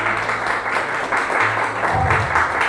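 A church congregation claps continuously and steadily, a dense wash of applause from many hands in a large room.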